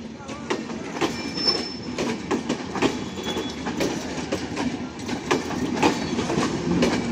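A crowded passenger train carrying people on its roof rumbles along with rhythmic clickety-clack from the wheels and brief squeals, loud and continuous.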